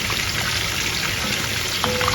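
Water from a kettle poured into a pot of coconut rice, a steady close rushing splash that runs evenly for the whole moment without a break.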